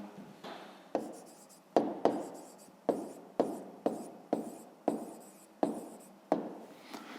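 A pen writes by hand on paper while working a fifth-grade maths exercise, with about a dozen quiet, close strokes, each starting sharply and fading, in an uneven rhythm with short pauses.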